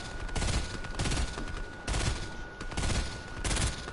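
Rapid gunfire bursts in a video game shootout, dense overlapping shots arriving in repeated loud waves with short lulls between them, no talking.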